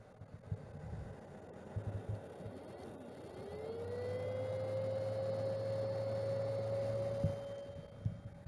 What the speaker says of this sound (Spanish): pero se encendió el ventilador